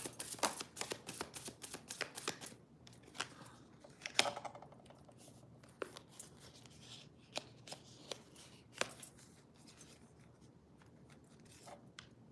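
Cards are shuffled in quick crisp riffles and snaps, several bursts separated by pauses, close and fairly quiet, with no talking.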